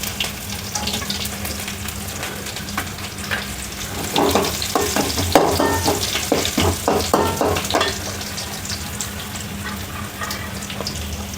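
Cumin seeds and garlic sizzle and crackle in a hot pan, with a steady frying hiss throughout and a busier burst of stirring clatter in the middle.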